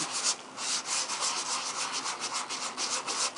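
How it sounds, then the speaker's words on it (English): A sanding block rubs across a textured holiday craft piece in steady back-and-forth strokes, each pass a dry, raspy scrape at close range with no talking. "and I'm going to go ahead and take my sanding block"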